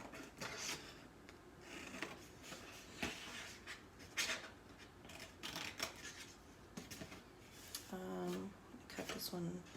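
Scissors snip through paper in a series of short, close cutting strokes while someone talks over them, as buildings are trimmed out for a paper cityscape.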